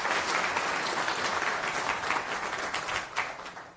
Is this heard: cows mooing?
no